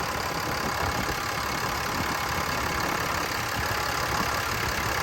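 Ram pickup's Cummins 6.7 diesel idles steadily right after starting, a continuous low engine rumble with broad hiss above it and no talk.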